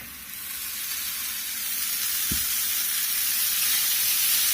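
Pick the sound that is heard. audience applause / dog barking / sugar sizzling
sugar sizzling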